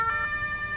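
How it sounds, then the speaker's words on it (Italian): Steady electronic siren of an emergency vehicle in Farming Simulator 22, heard alone without talk as a constant tone held through the whole short moment. "sto coso c'ha pure le sirene"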